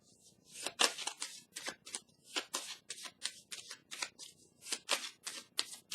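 Tarot cards are handled on a table in a run of quick, crisp papery flicks and slaps, close and clear with short pauses between them.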